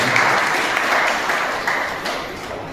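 Audience applause at a state-level Marathi reading-chain group ceremony, a steady dense patter of many hands clapping throughout, fading slightly toward the end.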